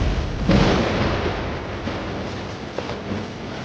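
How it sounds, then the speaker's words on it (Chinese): A sword energy blast in a wuxia martial arts drama booms like thunder, a loud deep rumble that swells early, then rolls on and fades with a few faint later thuds. "打雷了，晚上要下雨了"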